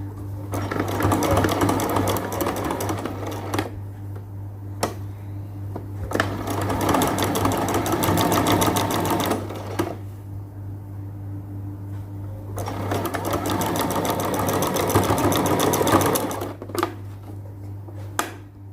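A sewing machine stitches binding onto a lace fabric sleeve in three long bursts of rapid, steady needle chatter, each separated by short pauses, over a constant low motor hum.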